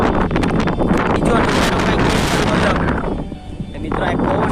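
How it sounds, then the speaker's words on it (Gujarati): Strong wind gusting steadily against the microphone outdoors, a loud continuous rushing roar that dips briefly before building again. "મિત્રો આ પવન"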